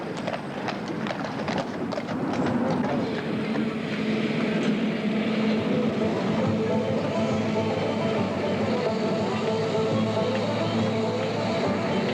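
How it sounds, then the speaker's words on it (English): A continuous rumbling electric railway train run on the Isle of Man in 1987, with rhythmic clattering of wheels on track, steady and fairly close, a faint voice briefly under the noise. "Electric railway is nearly 100 years old."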